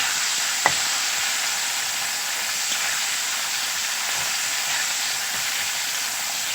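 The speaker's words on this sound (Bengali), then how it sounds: "টমেটোগুলো পেঁয়াজের সাথে ভালো করে ভেজে নেব" Chopped tomatoes fry with onions in a pan for a Bengali mustard fish curry, giving a loud, steady hiss and sizzle throughout, with a single sharp clack early on and faint stirring scrapes.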